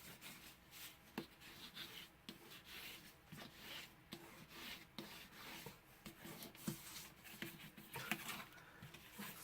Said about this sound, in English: I'm going to do the same thing with my bone folder here.